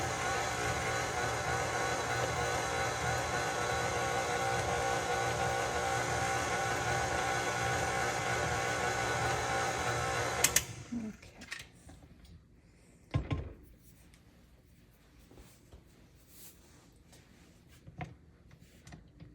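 Electric mixer beating vanilla butternut pound cake batter, a steady close whirring drone that runs for about ten seconds and then cuts off abruptly, followed by quieter clunks and handling noises.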